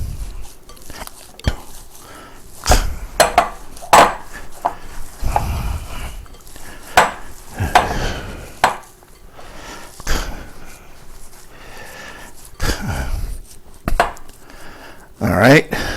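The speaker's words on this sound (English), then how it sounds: "And some ground pepper. Mix them one more time." Hands mix ground meat with ground pepper for burgers, making soft, wet squishing and slapping sounds at irregular intervals, close by, with occasional clinks of a bowl.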